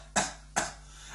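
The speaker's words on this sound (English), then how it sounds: "and a bad cough." Two short, sharp coughs from a single person, close and dry, spaced about half a second apart in an otherwise quiet room.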